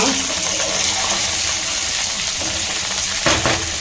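Onions and garlic fry under a lid in a pan for an Andhra kara chutney, giving a loud, continuous, close sizzle with scattered spitting pops.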